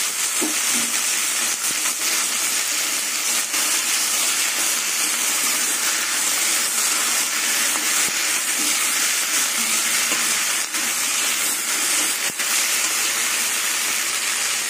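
Green chillies and gati kochu taro frying in a pan with prawns and onion, a loud continuous hiss of oil with occasional faint clicks and stirring knocks, close up and without talk.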